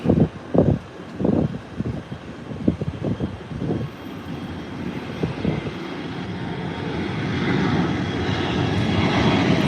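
A fixed-wing airplane takes off at Howard Hamilton International Airport, its engine roar building steadily from a distant rumble to a loud sustained drone, with some choppy bursts of noise early on.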